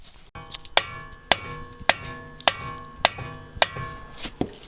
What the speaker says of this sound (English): mình chỉ dùng cái đục với cái búa mình đẩy nó ra